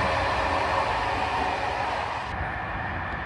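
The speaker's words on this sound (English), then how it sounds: "The train was also quite loud, especially in the vestibule." Inside an SNCF train in motion, a loud, continuous broadband roar of rolling and rushing noise fills the space evenly, with a slight drop in level near the end and no talking.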